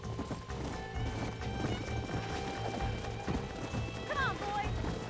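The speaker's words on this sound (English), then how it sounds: "There's the horses!" A herd of horses gallops in the Red Dead Redemption video game, a dense rolling thud of hooves with a brief whinny near the end, heard loud and continuous under a voice.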